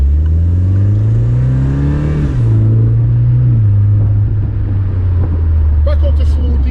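A Morgan Plus Four accelerating hard on kick-down gives a loud, steady engine drone whose pitch climbs, drops sharply at a gearchange and climbs again, heard close from inside the car.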